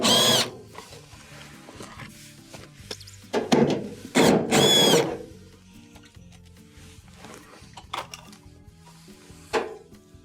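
A power tool removing quarter-inch screws from underneath a Maytag dryer, heard as a few short, loud, close whirring bursts with quiet stretches of faint handling noise between them.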